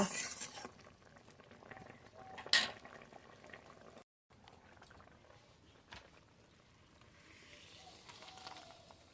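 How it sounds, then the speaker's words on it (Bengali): Prawn malai curry gravy simmering in a pan, a faint soft bubbling with a brief louder clatter near the start and a short silent gap, quiet and close with no talking. "ঝোল খুব ভালো জাল হয়ে গেছে, আর একটুখানি জাল দিয়েই নামিয়ে নেব।"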